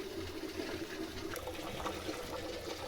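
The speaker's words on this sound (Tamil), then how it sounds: "குழம்பு நல்லா கொதிச்சிட்ருக்கு" Mutton kulambu, a spicy curry, boils in a pot with a faint, steady bubbling and simmering wash, quiet and continuous without speech.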